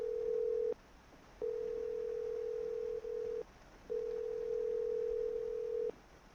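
A phone call's ringing tone repeats as long, steady electronic beeps separated by short pauses, clear and fairly quiet, with no voices.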